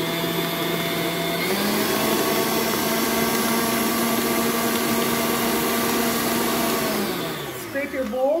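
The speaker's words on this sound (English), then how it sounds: "I'm just going to stick it onto the bottom of my K-beater there, and that little bit is going to mix in" Stand mixer with a K-beater mixing sugar cookie dough, a loud steady motor whine that shifts up slightly in pitch, runs evenly, then winds down near the end as the mixer is switched off.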